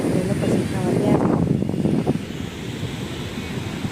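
Sea waves breaking at the shore during monsoon, a rushing wash of surf mixed with wind buffeting the microphone, loudest early and then easing, with voices talking over it.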